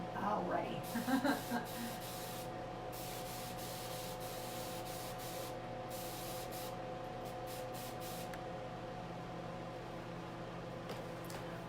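Spray paint hissing from a can in long continuous bursts, a steady airy spray repeated several times at moderate distance, with faint talk early on and a background hum.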